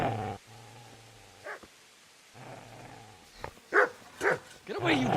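A dog growls low and then barks in short sharp bursts, close by, in the medieval video game Kingdom Come Deliverance, with a long rumbling snarl first and several yaps toward the end.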